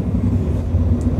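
A 2018 Scania XT G450 tipper truck, running unladen, powers up with a steady low engine drone, heard close and continuous with no talk over it.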